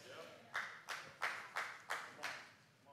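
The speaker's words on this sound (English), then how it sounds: "That's like one person golf clapping" A single person's slow golf clap, six soft claps spaced evenly about a third of a second apart, close and fairly quiet.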